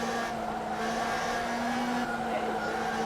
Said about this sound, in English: let's see how late we can leave the braking